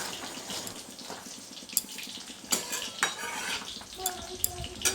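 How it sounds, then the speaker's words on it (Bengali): Chicken simmering with sugar and cornflour slurry in a pan: quiet bubbling with several sharp metallic clinks and scrapes of a utensil against the pan and dishes, no voices. "এবারে চিকেনগুলোকে দিয়ে এক মিনিট ফুটিয়ে নেব"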